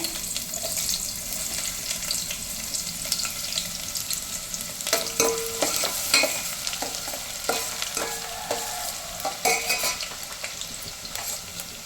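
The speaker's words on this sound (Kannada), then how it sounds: "ಸಣ್ಣಕ್ಕೆ ಈರುಳ್ಳಿ ಸಣ್ಣ ಟೊಮೊಟೊನ ಹೆಚ್ಚಿಟ್ಕೊಂಡಿದ್ದೀನಿ ಅದನ್ನು ಹಾಕ್ತೀನಿ ಒಗ್ಗರಣೆಗೆ" Steady crackling sizzle of finely chopped onions frying in hot oil, with occasional scraping clinks of a spoon stirring the pan, continuous and fairly close.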